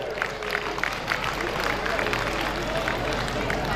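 A crowd claps to cheer on talented students at an award ceremony held at Ramlila Maidan. The applause is continuous and dense throughout, with a background murmur of voices.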